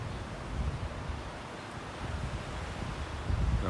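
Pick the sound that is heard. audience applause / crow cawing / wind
wind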